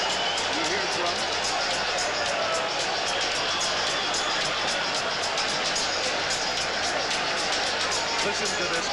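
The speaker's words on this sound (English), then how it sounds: "Listen to this crowd." A boxing arena crowd at Madison Square Garden before Roberto Duran's fight, a continuous loud roar of thousands of voices with rhythmic drumming woven through it, steady and dense throughout.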